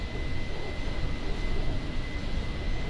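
Steady, even jet-engine roar of an Airbus A310 heard from inside the cabin in flight, a constant broadband rush with a thin high whine running through it, no voices.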